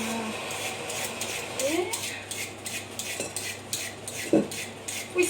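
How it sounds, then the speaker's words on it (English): Someone peels carrots in a home kitchen while making lasagne, giving soft repeated scraping strokes with a few light clinks of utensils over a steady background hum. "So we're going to start off peeling carrots."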